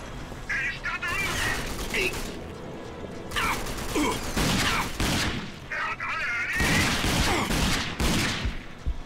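Pistol shots from the game RAGE go off repeatedly among mechanical clatter and booms, loud and close, while a German-speaking voice talks over the action.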